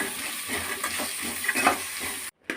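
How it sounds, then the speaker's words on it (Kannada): Spices with a pinch of turmeric fry in oil for a rustic-style chicken chops masala, giving a soft, steady sizzle with brief stirring scrapes, which cuts out abruptly near the end. "ಇದೆಲ್ಲ ಚೆನ್ನಾಗಿ ಫ್ರೈ ಹಾಕ್ಕೊಂಡ್ಬಿಡೋಣ."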